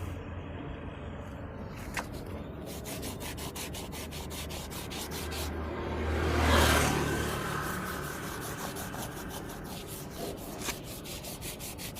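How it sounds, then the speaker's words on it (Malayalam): A car tyre being rubbed and polished by hand, giving a steady, close, continuous scrubbing and rasping sound that swells briefly midway, with no talking. "അത്രയും വൃത്തിയായിട്ട് നമ്മുടെ ടയർ ഇതിനുകൊണ്ട് പോളിഷ് ചെയ്തെടുക്കാൻ പറ്റും"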